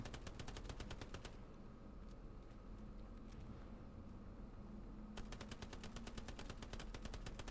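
Automatic machine gun fire in the World War II shooter Hell Let Loose, during a competitive match: a long rapid burst, a pause with scattered distant shots, then another sustained rattling burst, all fairly faint.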